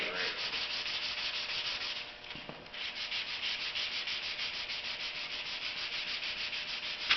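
Sandpaper rubs steadily across a Jeep Commander fender flare, a continuous close-up scratchy hiss that briefly pauses partway through before resuming.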